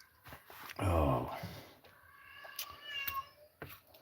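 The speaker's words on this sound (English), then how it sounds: "There's my cat. She's got shit to say." A pet cat lets out a loud drawn-out meow, followed by a few shorter, softer meows in a quiet room, close to the microphone.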